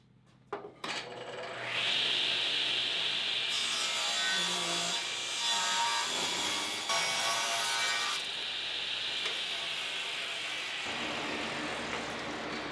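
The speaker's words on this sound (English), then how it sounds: "So I'm gonna cut this off now" A table saw trims the rounded corner off a 2x4, its motor spinning up and then screaming loud and steady as the blade cuts through the wood for about nine seconds before winding down.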